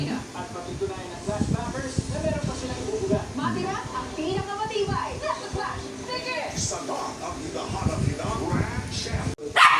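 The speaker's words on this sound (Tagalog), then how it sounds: "Tahol na naman." A dog yips and barks intermittently at close range while a person talks over it throughout.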